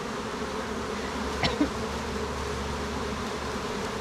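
Honey bees hum steadily around a beehive, a dense, continuous buzz close by with one bee passing briefly nearer, no voices.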